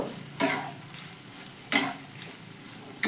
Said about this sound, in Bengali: আবারও সব কিছু ভালো করে একবার মিশিয়ে নেব